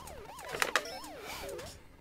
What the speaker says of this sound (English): The siren has started and I'm boned.